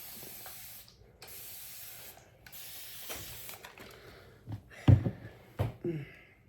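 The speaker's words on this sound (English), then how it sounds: "my hair is still dry in the middle, no matter how many times I spray it" Hairspray hissing from an aerosol can onto hair in a couple of short bursts near the end, preceded by quieter indoor handling and rustling sounds.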